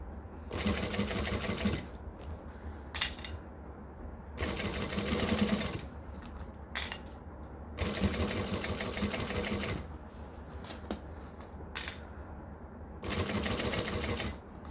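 A sewing machine stitches fabric for a dressmaking project in several quick, rattling runs, each a second or two long, broken by short pauses and small clicks. The sound is close and moderately quiet.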